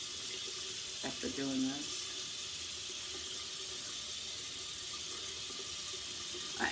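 Makeup brushes are washed under a running tap, a steady bright hiss of water into a sink holding at a constant close level, with a brief spoken phrase over it near the start.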